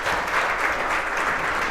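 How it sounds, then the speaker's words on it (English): An audience at a business talk on talent acquisition and onboarding applauds in a dense, steady wash of clapping, loud and close, without any voices over it. "let's give them a round of applause"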